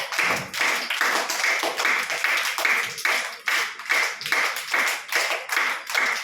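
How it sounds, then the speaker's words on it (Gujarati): A group of young anganwadi children claps along steadily during a ball-passing game, with brisk, slightly uneven clapping continuing close by for several seconds. "તાળી પાડો બધા"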